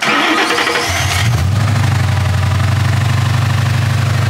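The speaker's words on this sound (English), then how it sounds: "Alright, we installed the tune. It's gonna be the first startup." A 2013 Ford Mustang engine, newly fitted with an intake manifold, intake and tune, cranks and catches on its first startup, then settles into a loud, steady rumbling idle close by.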